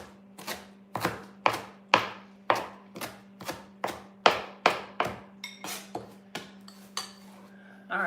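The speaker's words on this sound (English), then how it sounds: "so we got our 2 greens cut up here" A knife chops green leaf lettuce and red kale on a cutting board in a steady run of about fifteen crisp, evenly timed strikes, close and clear, with no voices.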